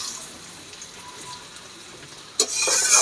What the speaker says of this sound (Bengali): তো এই যে এবার ভাজা হোক